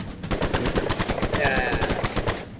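Rapid automatic gunfire in a VR physics game, a dense machine-gun-like burst of evenly spaced sharp shots running continuously, loud and close, with a faint whistling tone partway through.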